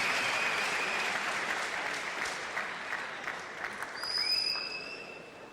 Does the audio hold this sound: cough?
no